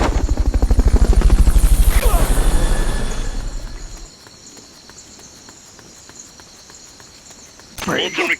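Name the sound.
recovery helicopter, from a video game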